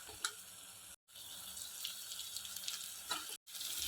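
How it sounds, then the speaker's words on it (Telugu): Masala sizzling in a pan while frying for a Telugu broad bean (goru chikudukaya) recipe, a steady soft hiss with faint scraping, broken by two brief silent gaps. "పచ్చివాసన పోయే వరకు ఇలా కొంచెం ఫ్రై చేసుకోవాలి"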